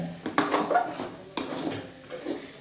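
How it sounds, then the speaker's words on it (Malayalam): Crab being mixed with salt in a pot, with a few loud metallic clanks and scrapes of the utensil against the pot, then quieter stirring rustles, close by with no talking. "നമ്മൾ മിക്സ് ചെയ്യണം നന്നായിട്ട്"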